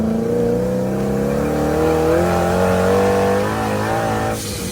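A 2017 Exomotive Exocet with a supercharged L33 5.3 liter V8 accelerates hard nearby, its loud engine note climbing steadily in pitch through a sustained pull before easing off.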